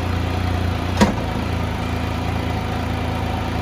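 A Can-Am Spyder engine idles in a steady low rumble with one brief click near the start.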